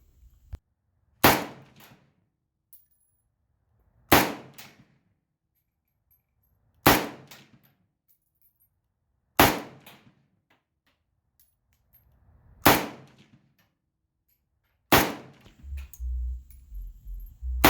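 Six sharp rifle shots from AK and AR type rifles, including a Romanian MD 63, fired singly at steady intervals of about three seconds, each a loud crack with a short decay, fairly close.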